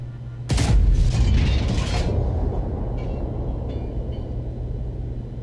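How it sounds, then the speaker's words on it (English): An FV4005 tank gun in World of Tanks fires a HESH shell with a single sudden, heavy blast, followed by a rattling crackle and a long low rumble that slowly fades, with a few faint clanks afterward. "I'm going to try to use free camera to show you exactly how I took the shot"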